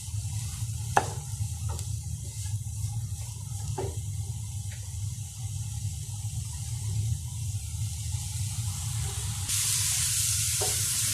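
Vegetables for a tuna pasta sauce sizzle and fry steadily in a pan while being stirred, with occasional scrapes and clicks of the utensil, close and continuous throughout with no talking.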